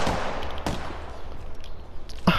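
Gunfire in Apex Legends, a few sharp shots and a muffled crackle of distant firing against a noisy background, with one sharp close hit at the end.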